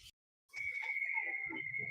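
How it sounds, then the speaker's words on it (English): A referee's whistle at an ice hockey game after the puck lodges in the back of the net, one sustained shrill blast after a short silence, moderately faint with arena noise beneath. "so we'll get a whistle"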